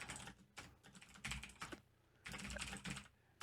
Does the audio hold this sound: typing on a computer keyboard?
yes